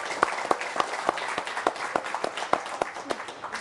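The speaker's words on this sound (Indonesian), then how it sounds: "Boleh tepuk tangan yang paling meriah?" Scattered, uneven clapping from a small audience at an Indonesian discussion forum, individual claps distinct and sparse rather than a dense wash, moderately close and steady throughout.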